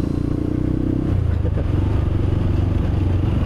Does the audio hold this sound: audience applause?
no